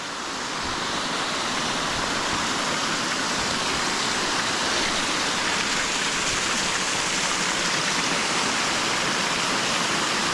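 Waterfall along a winter hiking trail, a continuous full roar of rushing, falling water heard close and loud throughout, with no voices over it.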